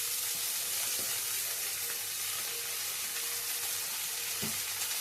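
Potatoes sizzle steadily in a hot pan with radish greens and shrimp, a constant crackling hiss, with a few soft knocks as they are stirred.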